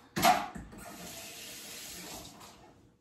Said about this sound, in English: Now I am going to rinse my hand off